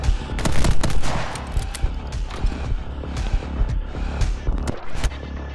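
Rapid gunfire in the video game My Friend Pedro: many sharp shots crack out one after another in an irregular stream, loud and close, with game action and clatter between them.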